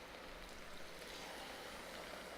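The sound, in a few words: water poured into a pot of eggplant and ground beef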